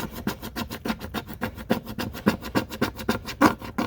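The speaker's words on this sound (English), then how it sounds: "So I don't know how much more scraping I can do to get this to stick." A tool scraping Dollar Tree vinyl transfer tape down onto a notebook, a quick rhythmic series of dry rasping strokes, close and fairly quiet, with no talking.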